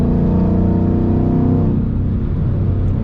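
A Ford Mustang GT with a Flowmaster Super 10, cat deletes and a Borla S-Type exhaust rumbles loudly with a deep exhaust burble, holding steady and then easing off, with no one talking.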